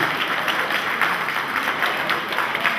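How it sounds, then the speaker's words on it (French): A crowd at a community solidarity gathering applauds loudly, a dense, steady roar of many hands clapping at once, close and unbroken throughout. "que vous leviez et que vous l'acclamiez très fort"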